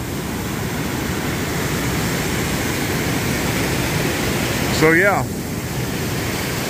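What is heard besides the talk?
river flowing along Foothills trail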